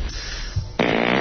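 A fart sound effect from the comedy film Jay and Silent Bob Strike Back bursts in loud and sustained near the end, after a short low thump over a quiet film soundtrack.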